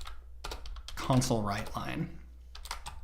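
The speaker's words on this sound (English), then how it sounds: "typing is not my strong suit tonight" Quick clicks of computer keyboard typing during coding, sharp and close, with someone talking over the middle stretch while keystrokes continue around his words.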